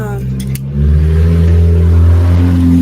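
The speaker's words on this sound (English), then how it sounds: "Loud ass car going by." After a brief voice, a loud car engine roars nearby, droning steadily as the vehicle passes close by.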